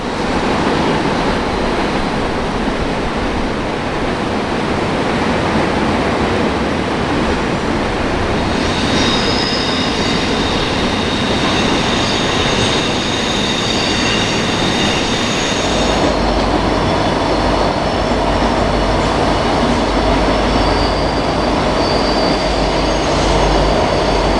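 A long, loud, steady rumble and roar of a freight train rolling past nearby on the NS Pittsburgh Line, with metallic wheel squeals and screeches rising over the continuous grinding noise.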